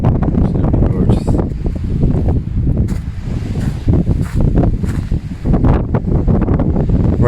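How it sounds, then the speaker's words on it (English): Strong wind gusts across an open cemetery at Mount Jerome, buffeting the microphone in loud, rough roaring bursts with rustling in between, continuous over several seconds. "Very, very windy."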